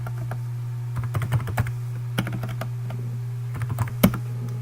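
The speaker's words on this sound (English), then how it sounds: "you will type driver pack as one word and then space solution" Keystrokes tapped on a computer keyboard while entering a search into a web browser, irregular clicks in small bursts with a louder final key press, over a steady low electrical hum.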